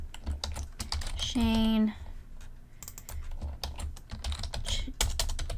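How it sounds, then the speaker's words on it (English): Names typed on a computer keyboard give rapid, close clicking key taps throughout, with a person briefly speaking in the middle. "So now I'm just going to retype my names."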